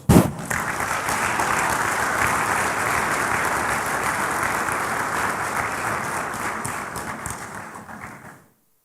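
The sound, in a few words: applause from congress delegates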